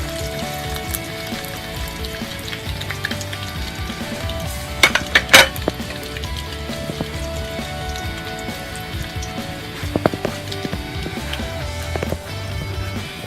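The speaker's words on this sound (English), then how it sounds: "and then you just put in your cumin and the rest of the whole ingredients and then just fry it for a few seconds." Cumin and other whole spices frying briefly in a pan for a spicy mud crab curry, a soft steady sizzle with metal clinks and a few sharp clatters of a pan and utensil, close and alone without talk.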